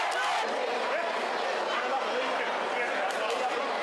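Spectators at a sports match in the Canary Islands, a dense steady crowd roar with shouting voices, moderately loud and continuous from start to finish.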